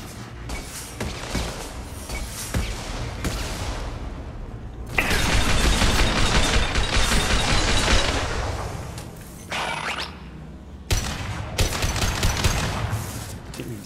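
Defensive turret gunfire in Mass Effect 2, loud rattling bursts of rapid shots in several long volleys separated by brief pauses, with booming impacts mixed in.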